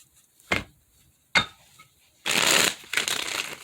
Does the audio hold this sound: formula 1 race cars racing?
no